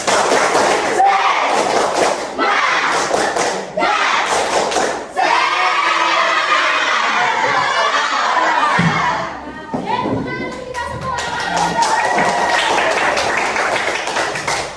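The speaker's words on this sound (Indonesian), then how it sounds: "Tepuk semangat." Classroom students stand and perform a rhythmic spirit clap, tepuk semangat, in sharp patterned bursts of claps broken by short pauses, with children's voices chanting and talking between the beats.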